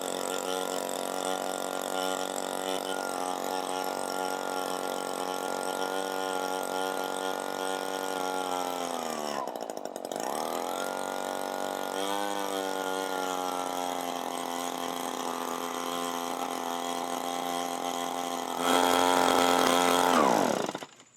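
An Echo PB 265L leaf blower with a fuel and choke running fault, heard up close as a steady buzzing two-stroke whine that sags and nearly dies midway, recovers, then surges loudly and cuts off at the end.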